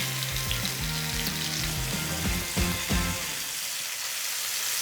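A hot-sauce-marinated steak sizzles steadily on the heat, a close, continuous frying hiss with faint scraping and stirring clatter mixed in, easing slightly toward the end.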